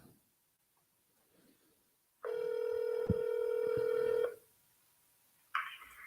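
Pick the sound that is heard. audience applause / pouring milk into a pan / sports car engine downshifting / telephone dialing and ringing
telephone dialing and ringing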